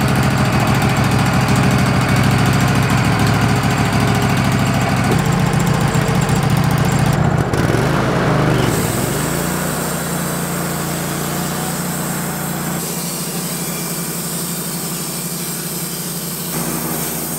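Sawmill cutting a cateye pine log: a loud engine drones steadily with the blade buzzing through wood, a brief sharp change midway, then a lower, quieter running hum to the end.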